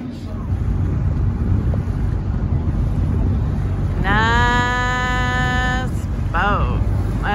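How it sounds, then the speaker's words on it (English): A loud boat passing on a lake produces a steady heavy roar with wind rushing across the microphone, while a voice talks over it in the second half. "It's a cool boat. It's loud. Can you hear it?"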